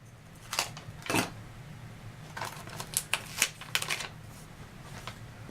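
Scissors snipping repair tape for a loose book hinge, a few quick crisp cuts in a quiet room, the snips clustered in short bursts with pauses between.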